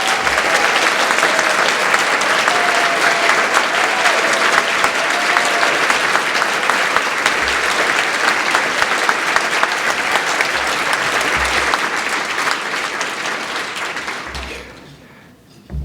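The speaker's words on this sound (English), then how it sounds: "I would like our staff who are here to please stand up for a round of applause" Sustained loud applause fills a hall as an audience claps for library staff standing at a celebration event, steady and dense for most of the stretch before fading near the end.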